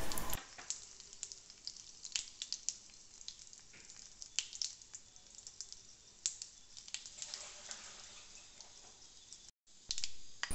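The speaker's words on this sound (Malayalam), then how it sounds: "ഇനിയിപ്പം നമുക്ക് കറിവേപ്പിലയും വറ്റൽ മുളകും ചേർത്ത് കൊടുക്കാം" Curry leaves and dried red chilies fry in hot oil with a busy, crackling sizzle and sharp sputtering pops, close and continuous, cutting off briefly near the end.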